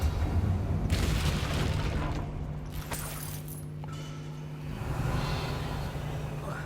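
A Confringo explosive spell goes off in Hogwarts Legacy, a booming blast with a rushing burst and crackling debris, followed by lingering rumble inside a spider-webbed area, fairly close with no talk.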